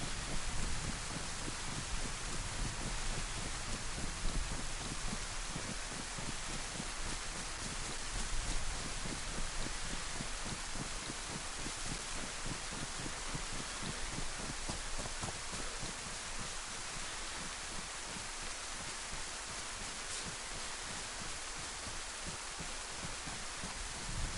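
Steady rain falls throughout in the DayZ video game, a constant dense hiss of drops at even loudness with no voices.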